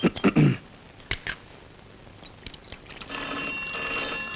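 A few short thumps and a voice sound come first, then a telephone bell starts ringing steadily near the end.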